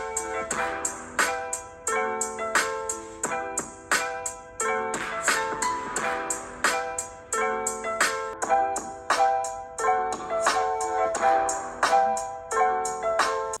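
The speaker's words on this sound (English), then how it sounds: "We also have dual stereo speakers on the top and bottom that sound like this." Music playing through the dual stereo speakers of a Samsung A53 5G phone, a steady rhythmic tune with repeating plucked notes and beats, moderately quiet and slightly thin.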